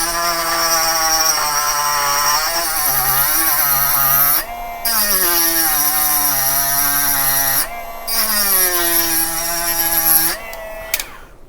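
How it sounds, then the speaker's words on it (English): A Dremel rotary tool shaves down material for a chassis build, its high whine rising and dipping in pitch as it bites and eases off, with brief pauses where it is lifted away, close and loud. "we're going to shave this down a little with the Dremel"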